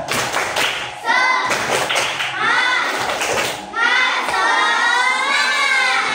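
Rhythmic group clapping in the Indonesian 'tepuk semangat' pattern from an audience at a religious talk, loud and close, with sharp patterned claps and children's voices shouting along between the beats.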